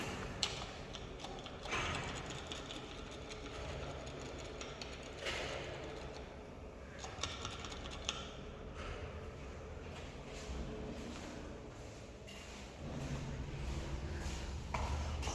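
A noisy 1984 MLZ elevator runs inside its cabin, with ongoing mechanical clanking, ratcheting and grinding, irregular knocks and creaks that go on throughout at moderate volume.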